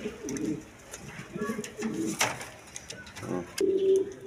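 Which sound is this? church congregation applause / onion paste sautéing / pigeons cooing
pigeons cooing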